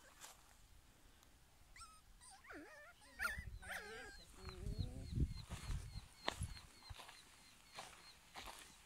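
A shepherd puppy whimpers and yips in thin, wavering cries, faint and somewhat distant, with rustling and soft movement noise around it.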